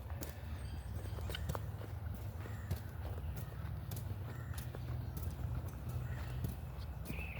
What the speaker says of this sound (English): They're such sweet, tiny horses.